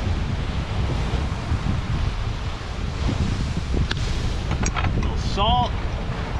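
Wind blows steadily across a beach with surf behind it, a constant roaring rush under a voice speaking at close range.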